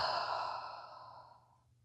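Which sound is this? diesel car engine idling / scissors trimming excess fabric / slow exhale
slow exhale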